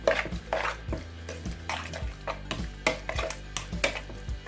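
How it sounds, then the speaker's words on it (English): A spoon stirs a wet chicken marinade of spices, garam masala and lemon juice in a bowl, giving a rhythmic series of squelching, clinking strokes close by. "Mix this all together."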